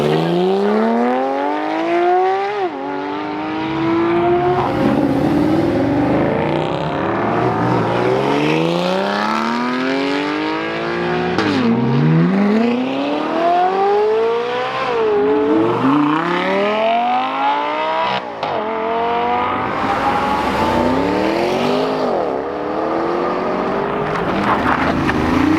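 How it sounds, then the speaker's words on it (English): Sports cars, including a Ferrari 360 and a first-gen Audi R8, accelerate from 0 to 35 mph one after another, each engine rising in pitch through the gears and then falling away, loud and close. "all of those were accelerations from 0 to 35 miles per hour"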